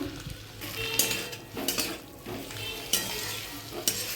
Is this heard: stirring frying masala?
yes